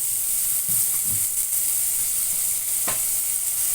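Bread potato sandwich mixture with curry leaves and coriander roasts in oil in a pan with a steady, loud sizzle. A few soft stirring scrapes sound over the constant frying hiss.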